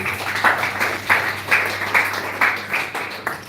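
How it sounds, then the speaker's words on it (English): Applause from a meditation class audience, steady broadband clapping with rhythmic surges over about three and a half seconds, moderately loud with no talking. "Let's give Prabhu another round of applause."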